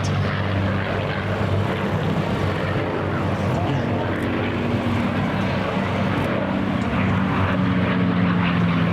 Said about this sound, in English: You might hear the music that they make along with the engine and the screaming.